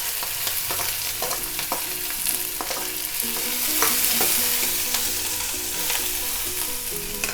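Chana dal, urad dal, onion, green chili and curry leaves frying in oil, a continuous sizzle with clinking stirs and scrapes throughout, fairly close and without talk.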